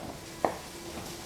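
Food being chopped on a board while a scrambled egg melt is prepared, two sharp, isolated knife strikes about a second apart, close and fairly clear over a quiet kitchen background.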